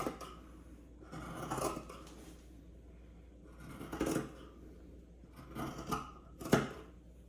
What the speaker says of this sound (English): Again, you're going through a lot of layers, so sharp scissors is helpful.